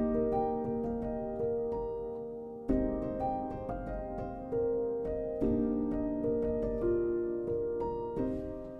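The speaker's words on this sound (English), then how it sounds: "The Una Corda was sampled using only one string on every single note." A felt-muted Una Corda sampled piano, recorded using only one string per note, plays soft mellow notes in phrases that restart every few seconds. Each phrase begins with a struck attack and then decays gently, alone and fairly quiet.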